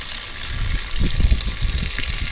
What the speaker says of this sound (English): It's pumping really well. Pumping like mad